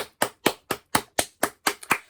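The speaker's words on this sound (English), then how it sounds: "Give yourselves a clap." Eight or nine sharp hand claps in an even, steady rhythm, close and clear with short gaps of silence between them, given after a children's tickle rhyme.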